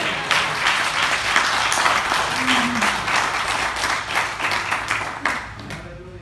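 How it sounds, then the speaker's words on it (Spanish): A church congregation claps together during a sermon, sustained rhythmic clapping filling the hall for several seconds, fading near the end. "dile palmas al rey"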